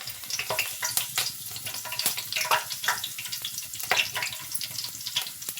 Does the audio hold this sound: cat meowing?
no